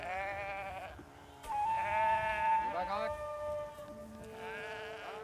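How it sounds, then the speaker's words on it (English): Gotland sheep grazing island grassland on Samsø give several drawn-out, wavering bleats, close and clear, with a pause between calls and a lower animal sound mixed in. "The Highland cattle and Gotland sheep grazing here are principally serving the purpose of nature conservation."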